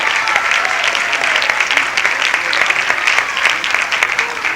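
An audience applauds at a 1990 Christmas stage show following an awards announcement, a full, even roar of clapping from a large crowd that continues steadily, with no talk over it.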